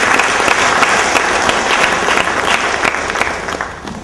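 An audience at a science education foundation event in Nigeria applauds. The clapping is dense and steady and keeps going for several seconds.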